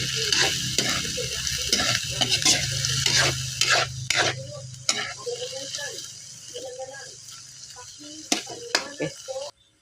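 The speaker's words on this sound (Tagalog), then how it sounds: "Haluin natin ang hipon." Shrimp stirred in a frying pan, a loud sizzle at first with repeated scraping and clattering strokes of the spatula, fading toward the end, with some talk in the background.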